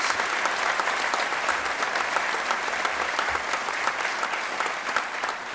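Audience applause at the Buffalo State of the City address, a dense, steady roar of many hands clapping that stays loud and even throughout, with no talk over it.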